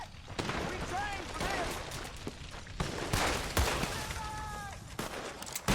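Dual-pistol gunfire in the video game Red Dead Redemption 2: repeated sharp shots fired at an uneven pace, close and loud, over game ambience, with shouting voices and brief whistling tones in between.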